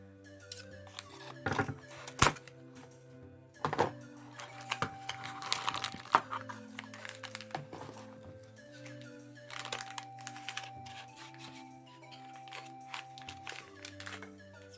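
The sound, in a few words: unwrapping and tearing product packaging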